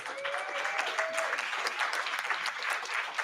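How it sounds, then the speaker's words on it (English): An audience at a panel event on Citigroup and environmental racism claps steadily and fairly loudly, a continuous wash of applause throughout with a faint voice briefly audible near the start. "give them another round of applause"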